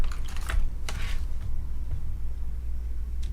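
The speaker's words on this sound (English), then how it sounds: "you want to type your password here" Keys tap on a computer keyboard as a password is entered, a few quick soft clicks in short clusters over a steady low hum, with no talk.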